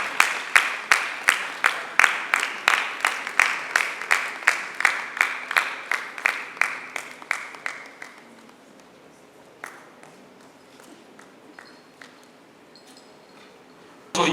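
Sharp, regular audience applause rings out at an even rhythm for several seconds at an academic workshop, then fades into scattered faint taps and quiet room noise.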